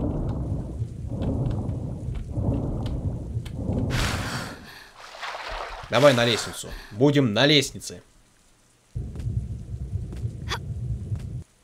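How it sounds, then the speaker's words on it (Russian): Rain and thunder in the Tomb Raider: Beyond The Scion game, steady rain hiss in bursts with rumbling thunder, broken by a gap of near silence while someone talks over it. "Дождь откуда-то льет."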